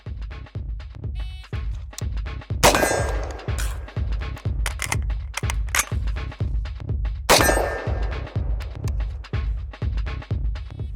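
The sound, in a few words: rifle shooting, hitting steel targets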